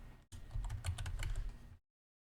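Rapid, steady keystrokes on a computer keyboard, close and fairly loud, running for over a second before stopping abruptly into silence; no voices.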